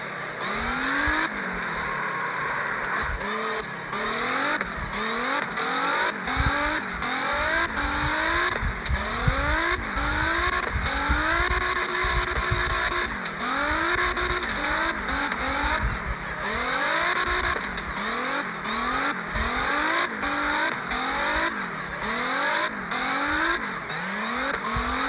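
A C6 Corvette drifts in the CarX Drift Racing 3 video game, its engine revving continuously and loudly with rising and falling pitch while tires squeal throughout, with no talking.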